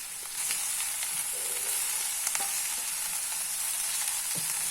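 Raw jackfruit with turmeric and salt sautés in a pan, a steady close frying sizzle broken by a few light spatula scrapes, no talking.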